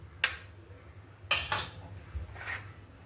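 Fried onions tipped into a cooking pot for Pakistani-style beef keema haleem, heard as a few sharp metallic clinks and scrapes of utensil against pot, close and brief, with quiet gaps between and no talking.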